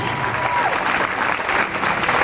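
An audience at a church seminar bursts into steady applause, a dense wash of clapping that carries on evenly for a couple of seconds.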